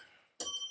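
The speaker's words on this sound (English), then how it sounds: "So hit that notification bell." A short bright bell ding, like a YouTube notification chime, strikes suddenly after a quiet moment and rings on briefly with a shimmering tone.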